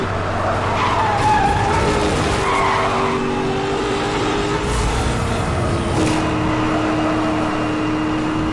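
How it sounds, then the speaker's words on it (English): Tires skid and squeal as a car drifts through corners in the racing video game Need for Speed Hot Pursuit, with a steady engine roar and sustained screeching that rises and falls over several seconds, loud and continuous. "You gotta drift, that's the trick."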